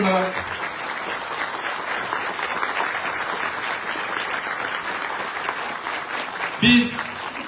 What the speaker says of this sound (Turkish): Biz önce kocaman bir alkış